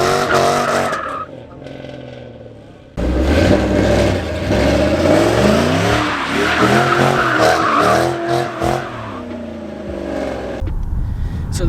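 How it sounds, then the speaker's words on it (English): A 2005-2009 Ford Mustang GT has its rear end break loose, with loud, close tire skidding and squeal mixed with engine revving, continuous for about eight seconds after a brief lull, ending in a quieter tail. "the first thing I like about this car is how easy it is to break the rear end loose"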